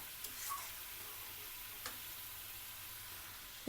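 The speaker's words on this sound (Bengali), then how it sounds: "সিদ্ধ করা তরকারিতে একটু ভালো করে মশলাটা কষিয়ে নিতে হয়" Spices and boiled vegetable curry sautéing in a pan give a faint, steady sizzle with a couple of soft stirring clicks, heard alone without any voices.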